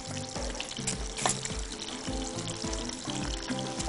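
Fava beans sizzling with ghee in a pan, a steady crackle with a rhythmic low thumping of mashing running through it.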